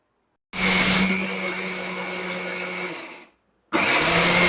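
A mixer grinder whirs loudly and close as it grinds rice with chillies for adai batter, running for about three seconds, winding down, then starting again after a brief silence.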